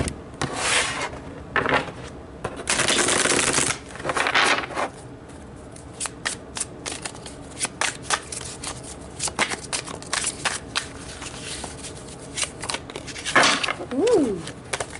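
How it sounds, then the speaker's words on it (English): Tarot cards being shuffled by hand, several loud riffling bursts followed by scattered soft card flicks and taps, close and dry with occasional faint voice sounds. "Let's pull some tarot cards about these here."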